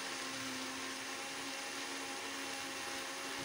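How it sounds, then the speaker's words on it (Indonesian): A kitchen blender grinds candlenuts with andaliman pepper, a steady, high, whirring drone that holds constant and fairly loud throughout, with no voices. "Dan kita blender kembali."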